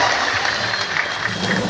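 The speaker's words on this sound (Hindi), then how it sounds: "जोरदार तालियां विधायक महोदय के लिए।" A rally crowd applauds for an MLA, giving continuous, even clapping from a large gathering with no pauses across the short stretch.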